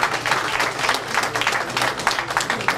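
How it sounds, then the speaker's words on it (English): A crowd applauds at a traditional cultural gathering, giving dense, continuous clapping at full strength throughout with no pauses. "Please give them a big hand of applause."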